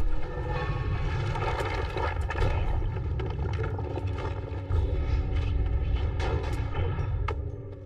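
Two black hole spells cast at once in the video game Noita produce a dense, continuous rumbling roar with layered tonal drones, loud and sustained throughout with brief crackling bursts and no talking.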